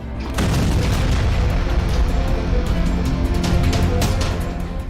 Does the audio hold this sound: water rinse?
no